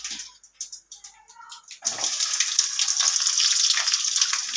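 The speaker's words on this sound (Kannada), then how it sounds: "ಅದಕ್ಕೆ ಇವಾಗ ನೆಕ್ಸ್ಟು ಬೆಳ್ಳುಳ್ಳಿ ಹಾಕ್ತಾ ಇದ್ದೀನಿ." Garlic tossed into hot oil for garlic puffed rice (mandakki): a few light clinks, then a steady, bright sizzle and crackle close by, continuing to the end.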